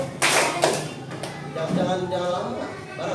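First-grade children clap their hands in a classroom counting game, a few sharp bursts of clapping early on followed by classroom voices and murmur.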